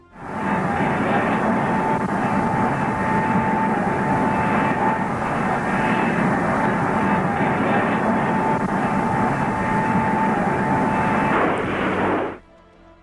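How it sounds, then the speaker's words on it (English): Modified North American B-45 bomber taking off in 1955 with an experimental jet engine in a belly nacelle: a loud, sustained engine roar with a steady whine, holding for about twelve seconds before cutting off abruptly. "Historic footage captures the modified B-45's ascent on May 20th, 1955."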